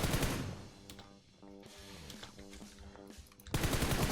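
Gunfire in the mobile game PUBG Mobile, rapid bursts of automatic fire with a loud blast at the start and end and a rhythmic rattle of shots between, close and alone.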